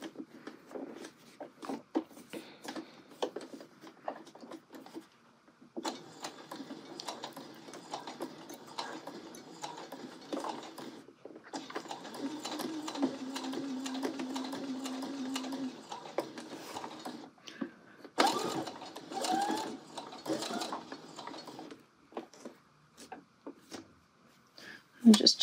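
A sewing machine stitches a welt pocket in bursts of rapid mechanical whirring and ticking, with two long runs and shorter stretches between pauses, while someone talks over and between the stitching.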